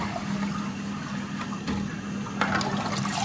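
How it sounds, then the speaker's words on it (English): A toilet flushes through a Siamp siphon in a home bathroom: steady rushing, gurgling water held at a constant level throughout, close and fairly loud, with no voices. "So I'll just flush that."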